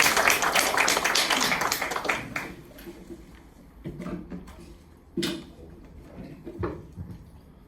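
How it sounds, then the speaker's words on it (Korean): Crowd applause at a union election campaign rally for a tower crane operators' regional chief, strongest at the start and fading into scattered, sporadic claps and knocks. "큰 박수로 격려해 주시기 바랍니다"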